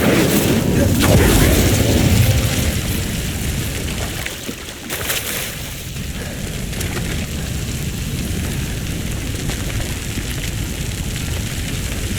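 Incendio fire spell cast in Hogwarts Legacy, a loud burst with a deep booming whoosh in the first two seconds that settles into a steady crackling, rushing roar for the rest.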